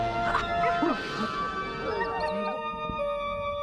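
A dog barks and yips excitedly with whimpering noises in an animated film, mixed with voices and background music.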